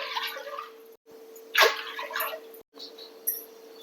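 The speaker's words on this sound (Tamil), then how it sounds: "மீதி 3 கப் தண்ணியை சேர்த்துக்கலாம்." Water pours into a clay pot for sorghum porridge in a close, splashing stream, broken by brief gaps, with a faint steady hum underneath.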